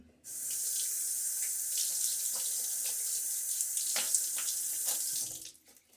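Tap water runs steadily into a sink to wet a face before a wet shave, a continuous close hiss with small splashes as hands dip in, stopping abruptly near the end.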